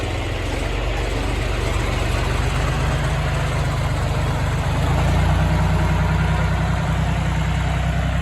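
A John Deere tractor diesel engine runs close and loud at a steady idle-like drone throughout, with a slight rise in pitch about midway during hay work.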